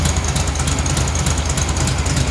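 A 1972 VW Super Beetle engine runs close by, cold-natured with an uneven gallop in its idle, a loud rough rhythmic chugging with no voices.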